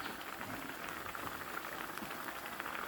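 A pot of Thai fish curry bubbles at a steady boil, with eggplant and kaffir lime leaves simmering in it, giving a dense continuous fizz and bubbling close up, no voices.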